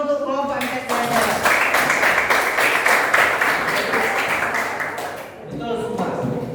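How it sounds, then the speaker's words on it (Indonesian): A classroom of students claps for a student group during a guidance lesson: dense, loud clapping fills most of the stretch, then fades briefly and picks up again, with a voice talking at the start and end. "Tepuk tangan dulu untuk kelompok MTS Jaya Jaya."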